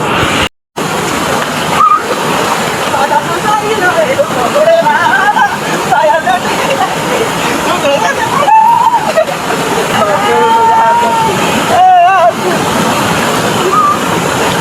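Steady, loud sloshing and splashing water as people swim, with excited voices talking over the continuous watery rush.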